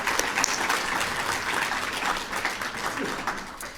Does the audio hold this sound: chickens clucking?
no